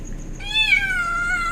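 A kitten trapped inside a trash bin lets out one long, drawn-out meow up close. It is a rising then falling cry over a low, muffled background, and no one speaks.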